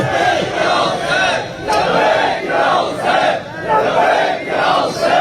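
A large crowd at a Muharram majlis on Ashura in Jhang chants Husaini slogans in rhythmic call-and-response bursts, loud and close, swelling and falling in repeated waves.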